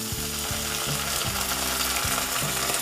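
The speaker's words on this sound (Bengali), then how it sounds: "জিরে গুঁড়ো, লঙ্কা গুঁড়ো, হলুদ গুঁড়ো, এগুলো ভালোভাবে ভেজে নিতে হবে।" Cumin, chilli and turmeric powder frying in a pan, a dense steady sizzle with rhythmic scraping strokes of a spatula repeating about every half second, close and loud.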